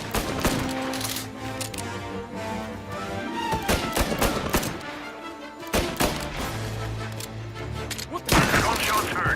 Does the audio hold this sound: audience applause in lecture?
no